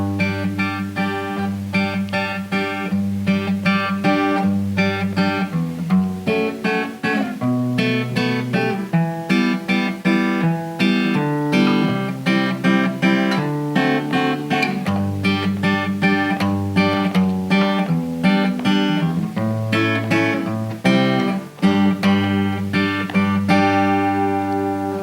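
An acoustic guitar plays the opening section of a song, with steady strummed chords and bass notes running continuously at moderate volume, close and without any voice.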